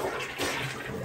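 A Swiss Madison Sublime one-piece dual flush elongated toilet flushes, a brief, close, steady rush of water with a swelling surge.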